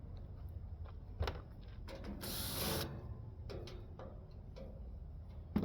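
Screws come out of a central air conditioner's metal panel, quiet ratcheting clicks of a driver in irregular bursts with a brief whirring spell, under a low hum.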